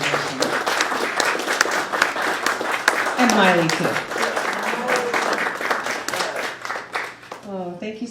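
An audience at a roundtable event applauds steadily while a speaker keeps talking over the clapping, which runs close and dense from start to finish.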